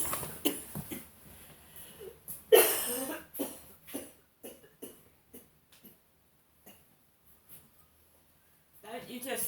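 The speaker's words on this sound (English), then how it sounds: "when you have a coughing attack on camera" A man coughs hard in a sharp cluster of harsh barks, with one loud burst followed by smaller coughs and throat noises that fade into near silence before more sound returns.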